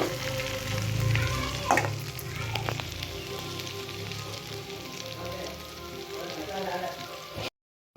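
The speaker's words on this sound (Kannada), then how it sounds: "ಸ್ವಲ್ಪ ಕೊತ್ತಂಬರಿ ಹಾಕಿ ಸ್ವಲ್ಪ ಹೊತ್ತ ಫ್ರೈ ಮಾಡ್ಕೊತೇನೆ ರೀ" Coriander leaves frying in a pan for chana dal chutney, a steady close sizzle with occasional stirring clicks and scrapes, continuous and fairly loud, with no talk over it.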